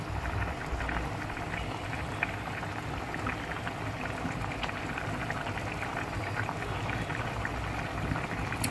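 Vegetables bubbling in a pot on the stove: a steady, even hiss and patter of boiling water that goes on without a break, soft and continuous.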